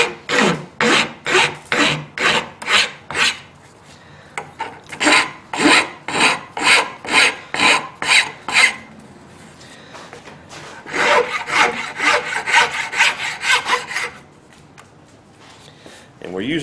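Metal file rasping down the protruding pins on a custom knife handle from a Flint and Steel knife making kit, the handle held in a vise padded with leather: loud, steady back-and-forth strokes in rhythmic bursts with short pauses between runs.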